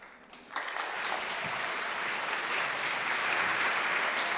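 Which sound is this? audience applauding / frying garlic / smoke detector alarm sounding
audience applauding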